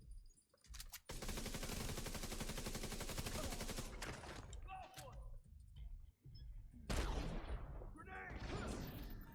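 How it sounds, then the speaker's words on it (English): Mortar launcher fire in The Division 2 during a heroic-difficulty mission with an explosive build: a long, loud, dense run of rapid blasts, a brief lull, then more heavy booming bursts and crackling impacts. "Love using the mortar."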